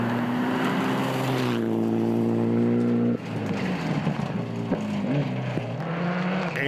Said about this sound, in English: Andrew Hawkswood taking his Mazda 2 out for a final run